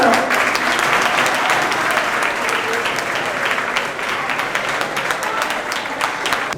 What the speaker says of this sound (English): Let's put your hands together.